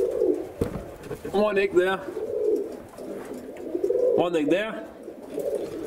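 Homer pigeons coo close by in two soft, throaty bursts of rolling warbles, while someone talks quietly over a low murmur between the calls.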